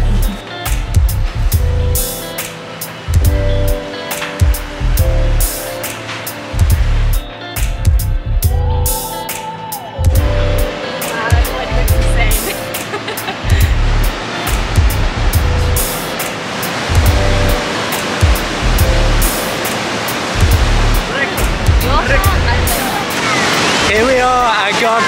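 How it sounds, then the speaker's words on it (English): The massive Iguazu Falls roaring at the Devil's Throat, a loud, constant wash of rushing water that fills the whole scene, with voices talking over it at times. "Definitely the biggest waterfall we've ever seen. It's actually quite overwhelming. There's so much water coming over the edge."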